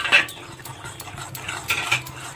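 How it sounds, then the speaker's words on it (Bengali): Chili, coriander and cumin powder with black and white salt being stirred into tamarind chutney, quick clinks and scrapes of a spoon against a bowl in a short burst. "একটু নেড়ে নিই।"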